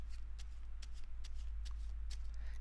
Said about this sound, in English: Shuffles the pack.